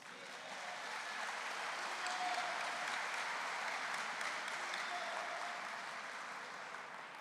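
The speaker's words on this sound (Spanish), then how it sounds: "Un aplauso a Cristo." A church congregation applauds steadily through a sermon, a broad even wash of clapping that swells slightly in the middle and holds without speech.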